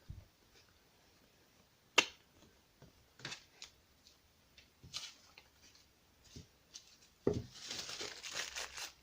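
Magazine pages and tissue paper are torn for a seascape collage, making soft, sparse rips and crinkles close by. The sounds are scattered, with a longer, louder tearing stretch near the end.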